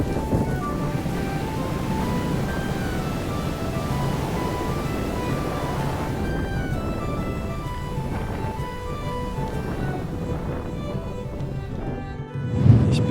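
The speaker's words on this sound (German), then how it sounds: "Es regnet die ganze Zeit" Steady rain and strong wind roar in the Scottish Highlands, a dense, unbroken wash of noise close to the microphone that runs throughout.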